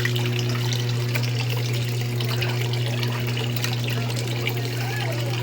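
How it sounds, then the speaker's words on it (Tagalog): Tap water runs steadily and loudly while raw chicken skin is washed, a continuous splashing stream with a low electrical hum underneath. "busy nga siya sa paglilinis ng chicken skin natin"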